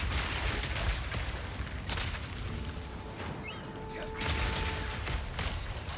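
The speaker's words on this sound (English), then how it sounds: "Explosions. Okay." Explosions and booming fire in Path of Exile 2 gameplay, a dense, continuous rumble of blasts and crackling bursts with a few brief tonal game sounds, under steady noise and no clear talk.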